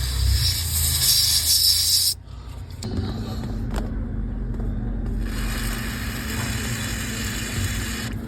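A can of cleaning spray hisses onto the brake switch of a Honda City, a loud sharp burst, then after a short gap a longer steadier spray over a low idling engine hum.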